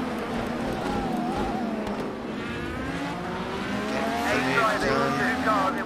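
Simulated IndyCar race car engine from Project Cars 2 at the Long Beach street circuit, held at a high, steady, loud whine in top gear for several seconds, with slight pitch shifts as the car runs on.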